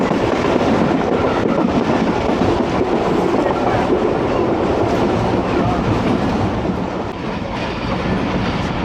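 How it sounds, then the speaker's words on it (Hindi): The Awam Express train rolls into Dina railway station, heard from on board as a loud continuous rumble with clattering wheels that eases slightly toward the end. "और दीना रेलवे स्टेशन पहुंच गई है ट्रेन"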